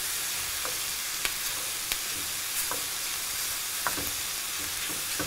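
Shrimp sizzle and crackle steadily in a hot pan for fajitas, with a few sharp clicks as they are pushed and stirred around, close and continuous.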